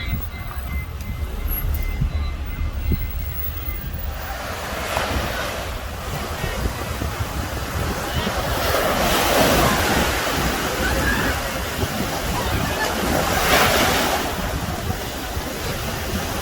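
Waves and wind rush continuously at a crowded beach, a loud broadband wash that swells and eases with gusts, with faint voices mixed in.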